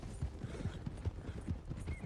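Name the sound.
horses trotting in video game Red Dead Redemption 2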